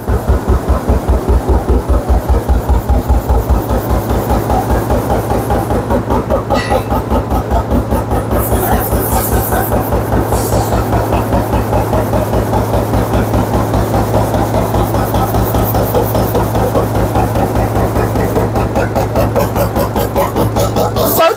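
A high-speed double-line plastic PE t-shirt bag making machine runs with a loud, fast, steady mechanical pulsing and thumping, a continuous rhythmic clatter over a low hum that persists throughout.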